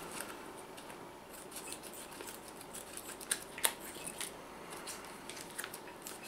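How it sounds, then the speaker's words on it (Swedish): Scissors snip open a plastic bag of store-bought potato gratin in a kitchen, a few quiet crinkles and then a couple of sharp, close cuts, with no talking. "Klipper av den helt enkelt."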